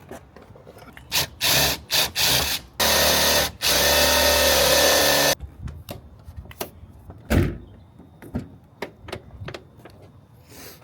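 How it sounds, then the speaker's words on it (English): Power drill driving self-tapping screws into Magnum car doors, several short loud whirring bursts followed by two longer sustained runs, then scattered clicks and handling knocks, close up with no talking. "self-tap it everywhere where I want the screws to go"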